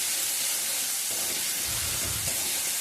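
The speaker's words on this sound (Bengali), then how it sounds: "তেলে দিয়ে নাড়াচাড়া করে নেবো।" Spiced taro and potato stirred in hot oil, a steady, close sizzling hiss with a few soft scraping stirs near the end.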